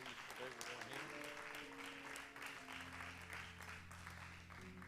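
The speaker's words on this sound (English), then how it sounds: "Clap your hands to the Lord," Church congregation clapping their hands in praise, a steady wash of faint, distant claps running throughout beneath a sustained organ or keyboard tone.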